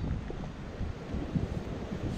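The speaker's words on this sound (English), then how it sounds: "Real windy now." Gusty beach wind buffets the microphone with a low, rumbling roar that rises and falls, moderately loud, with no one speaking.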